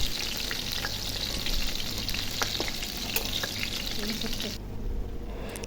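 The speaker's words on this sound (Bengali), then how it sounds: "এখন আমি ভেজে নেব সবগুলো" Spiced brinjal frying in a small amount of oil, a steady close sizzle with occasional crackles and pops running throughout, fairly quiet and unbroken, with no talking.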